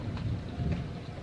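Monsoon rain falls steadily during a thunderstorm, a dense, even wash of sound with low rumbles beneath, no voices.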